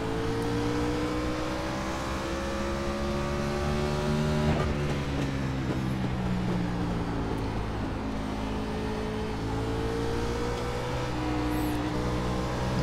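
NASCAR Xfinity race car engine in iRacing, held near the rev limiter in a loud continuous drone with slight pitch wavering, close and steady throughout, no talk.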